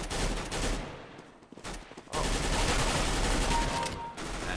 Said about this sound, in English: This is the Galil Israeli rifle. Looks cool. I really like how it sounds when you fire it too.